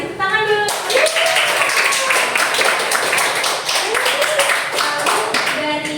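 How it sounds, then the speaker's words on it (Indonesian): A classroom of students clapping hands together during a lesson, a steady burst of close, dense claps with a teacher's voice rising over it now and then. "Bagus sekali, tepuk tangan dulu."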